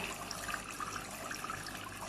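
Water flows from a storage tank into a reservoir tank, a soft, steady splashing trickle that runs on evenly at low level, with no talk.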